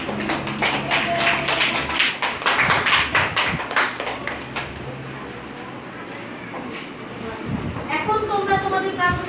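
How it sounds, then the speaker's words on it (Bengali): A class of students in a classroom clapping loudly together, a dense burst of rapid handclaps that fades after a few seconds, followed by voices talking. "জোরে করতালি দাও সবাই"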